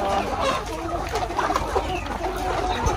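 Chickens clucking in a poultry farm house of laying hens, a dense, continuous chatter of many birds at close and middle distance, with scattered louder clucks over a steady background din.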